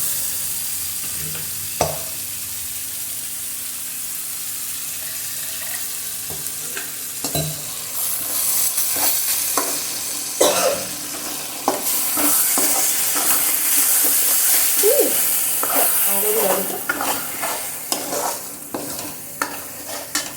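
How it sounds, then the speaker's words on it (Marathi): Masala for green pea curry sizzles in a pan, with scattered stirring scrapes and clatters that grow busier and louder partway through. No one speaks. "मसाला आपला शिजणार आहे आता."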